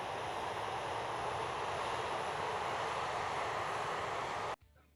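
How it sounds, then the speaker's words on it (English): Aircraft engines in the Vietnam-era combat flight game Air Conflicts Vietnam drone loudly and steadily as a dense, continuous roar with no voices, then cut off abruptly near the end. "American aircraft inbound."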